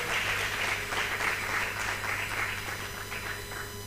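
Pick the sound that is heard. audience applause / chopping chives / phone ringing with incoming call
audience applause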